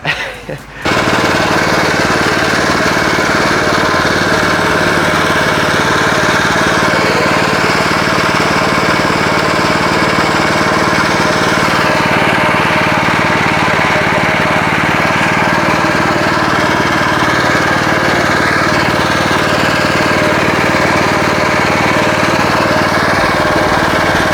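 A lawn mower engine works hard while driving across a slope, its loud, steady roar close and continuous throughout, with throttle changes shifting the tone slightly.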